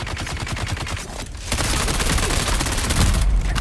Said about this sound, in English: I need to melt the shields with this SMG.